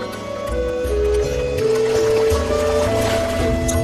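A fisherman's boat glides along a winding river in a Bengali horror cartoon, with soft watery movement running steadily under a continuous tonal music score.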